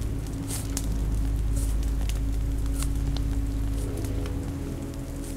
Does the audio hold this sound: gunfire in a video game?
no